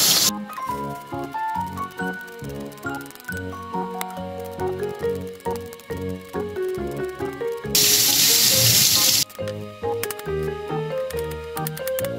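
Tap water runs in a loud, hissing burst of about a second and a half as something is washed in a kitchen sink, cutting in sharply over steady background music.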